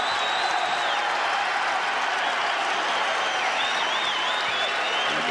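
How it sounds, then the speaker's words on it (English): A basketball arena crowd applauds its Hall of Fame coach, a dense, continuous wash of clapping and cheering at steady loudness throughout, heard from within the stands. "Crowd applauding their Hall of Fame coach."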